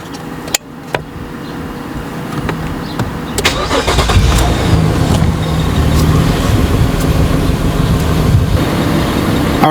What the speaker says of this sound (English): So now what we're going to do is turn on the vehicle.